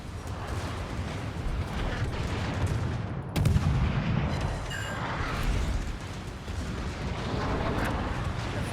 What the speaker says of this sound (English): the shells are pretty accurate with that aiming systems mod 1 equipped